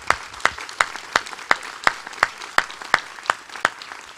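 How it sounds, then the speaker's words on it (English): An audience applauds for Brian and his team at an event, steady rhythmic claps about three per second, crisp and fairly close, with no voices over them. "I think we all owe a round of applause to Brian and his entire team"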